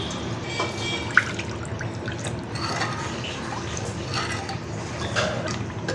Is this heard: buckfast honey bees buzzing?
no